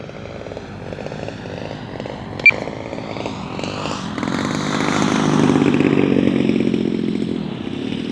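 A 35cc Gilmore Red Lion RC airplane by Seagull Models comes in to land, its gas engine droning loudly with a sharp click midway, then swelling as it nears.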